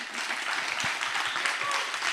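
An audience in a conference hall at a Paris-Saclay summit applauding young deeptech researchers, a dense and steady burst of clapping throughout with no speech.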